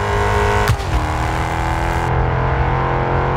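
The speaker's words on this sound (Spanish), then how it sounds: "O sea, más bien los motores igual suenan bien." A car engine in the Test Drive Solar Crown racing game drones loudly and steadily, with a sharp transient near the start and no talk.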